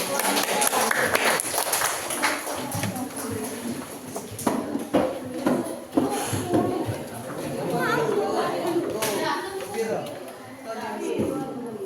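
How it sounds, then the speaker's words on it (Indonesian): A classroom full of students claps for a group during a teacher's lesson, the scattered, uneven claps mixing with steady chatter and talking throughout. "Sekali lagi tepuk tangan untuk"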